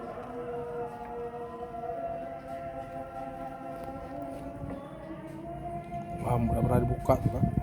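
Horn of a 2018 Honda Scoopy motorcycle holds one steady, continuous tonal blare for several seconds, close and fairly loud, with voices and rustling noise coming in near the end.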